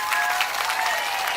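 Loud, sustained crowd applause at an Andhra Pradesh political rally, a thick continuous roar of many hands clapping at close range with no distinct voice on top.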